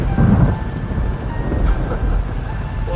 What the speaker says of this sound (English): And wow, thunder and lightning.